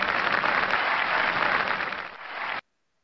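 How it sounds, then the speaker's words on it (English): A podcast audience gives a round of applause for a guest writer. The clapping is dense and steady, then cuts off abruptly into silence. "If everybody would please give a round of applause to Mr."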